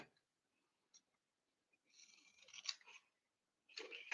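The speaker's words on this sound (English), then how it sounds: "Well, I need to trim this end off." Scissors snip off the end of a strip of masking tape, a few quiet cuts and crinkles close by, with a brief rustle at the end.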